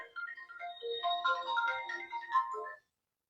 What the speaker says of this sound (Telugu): మీ నాన్న ఫోన్ చేసినారు, మాట్లాడేమో.